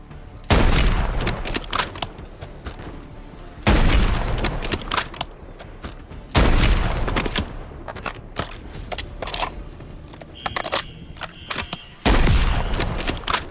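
Sniper rifle gunfire in the video game Modern Warfare III, four loud, booming shots spaced a few seconds apart, each with a long rolling echo that fades before the next.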